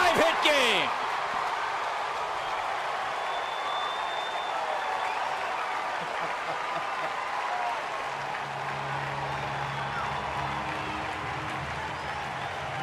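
Baseball crowd at Turner Field cheering and applauding, a broad roar of clapping that swells at the start and then holds at a steady wash, with a voice talking over it.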